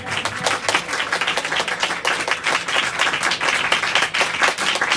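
Steady applause from a church congregation during a Hindi-Urdu sermon, dense clapping sustained evenly throughout at moderate loudness, with no voices over it.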